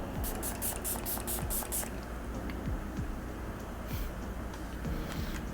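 A steady hiss of drugstore sunscreen aerosol spray runs continuously, with a series of quick rhythmic bursts at the start over faint background noise.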